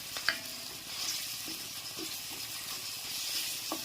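Brinjal masala cooking in oil in a pan, a soft continuous sizzle with occasional light stirring taps and clicks, fairly quiet and without talk.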